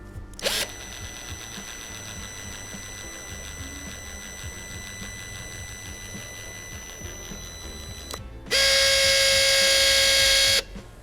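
A Dnipro-M DSG-200 electric caulking gun runs at its lowest speed, giving a steady, close motor whine for several seconds, then a louder harsher buzzing stretch of about two seconds before it stops.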